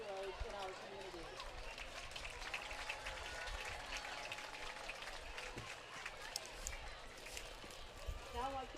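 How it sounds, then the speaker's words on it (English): Applause from a stadium crowd at a women's soccer match honoring the Maryland Army National Guard, a thin, distant patter of clapping spread across the stands with an announcer's voice and crowd noise mixed in. "Let's give a round of applause for the Maryland Army National Guard and the hometown heroes in our community."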